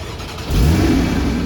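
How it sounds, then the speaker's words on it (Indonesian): A 2013 Porsche Boxster 2.7 Sport Chrono revs up close: a low idle rises suddenly into a loud, sustained engine roar that holds steady to the end. "Waduh, keren abis kan dari mobil si Porsche Boxster ini"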